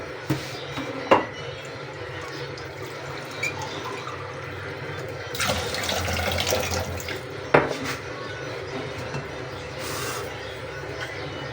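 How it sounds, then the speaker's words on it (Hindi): Fresh water, about two large glasses' worth, poured into a frying pan in a home kitchen: a short rushing splash, then a second briefer pour, with light clinks of dishes and faint background hum between them. "फ्राई पैन में हम क्या करेंगे, 2 बड़े साइज़ के गिलास पानी फ्रेश वाटर डाल दें।"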